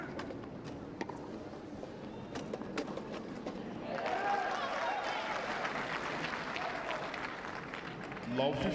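Spectators clap at a wheelchair tennis men's singles match at the London 2012 Paralympics, a broad wash of applause swelling midway and carrying on, under a commentator's voice.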